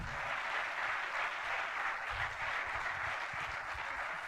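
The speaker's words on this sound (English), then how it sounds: "A round of applause" Audience applause at a talk, a steady wash of clapping that sounds distant and fairly faint, holding evenly throughout with no voices over it.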